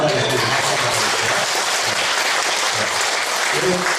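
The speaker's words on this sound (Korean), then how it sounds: "박수 한번 하겠습니다." A church congregation breaks into dense, steady clapping, loud and continuous from start to finish, with a faint murmur of voices beneath.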